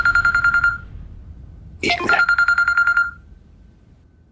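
A phone rings in a home in a Punjabi TV drama with a crisp, pulsing electronic trill in two loud bursts. A brief voice speaks between them, then the ringing stops.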